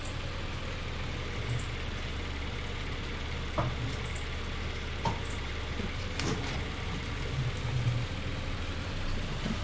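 Rain falling in Farming Simulator 19, a steady faint hiss spread across the whole stretch beneath a low engine rumble, with a few scattered ticks and clicks.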